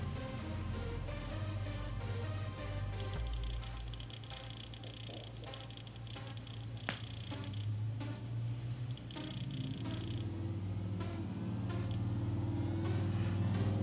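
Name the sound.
car passing outside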